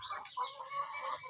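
Free-range village chickens and chicks cluck and chirp close by in a short, busy burst of overlapping calls with no talking.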